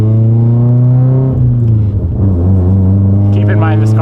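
A Mitsubishi Evo 10 with a faulty transmission revs loud and close during a pull, its engine drone dipping around a shift and then climbing again. A voice is heard at the end.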